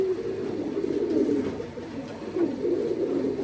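Top-class loft pigeons coo steadily up close, a continuous low, throaty murmur that swells and dips without pause, with no talking.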